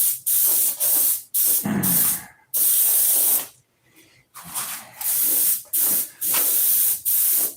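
Paint hisses from an airbrush in short, repeated bursts, each a steady close spray lasting under a second to a second, separated by brief pauses and one longer gap.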